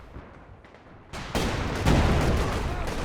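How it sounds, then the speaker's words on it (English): Artillery barrage striking in the strategy game Company of Heroes 2 during a 4v4 match: a quiet rumble, then a loud burst near 1.1 s and a heavier blast around 1.3 s, followed by sustained booming and crackling explosions that stay loud to the end. "There's this barrage coming in for Lucky."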